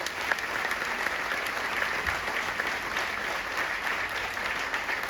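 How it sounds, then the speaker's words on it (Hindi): Sustained applause from a seminar audience at Nehru Memorial, dense steady clapping from a large crowd filling the whole stretch at even loudness. "एक बार जोरदार ताली हो जाए कंपनी के लिए"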